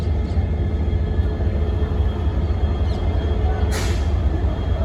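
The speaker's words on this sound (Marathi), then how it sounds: "आणि ही आमची ट्रेन थांबलेली आहे बघा इथे." A train halted at Guwahati station: a steady low rumble of the idling carriages with a brief hiss of air brakes near the end, continuous and fairly loud, no voices.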